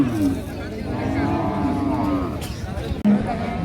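Australian Friesian cow at a busy cattle market in Gazipur, Bangladesh, letting out a long, drawn-out moo under nearby people talking and general market chatter.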